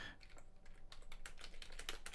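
Typing on a computer keyboard, a quick, irregular run of soft key clicks, close and quiet, with no talk.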